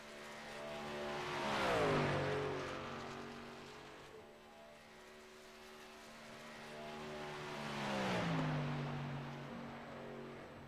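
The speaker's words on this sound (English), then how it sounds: "What a night of racing we have." Race cars roar past on a Kentucky dirt track at night, engines rising loud as each car sweeps by around two and eight seconds and fading between passes, with the steady drone of more cars circling in the distance.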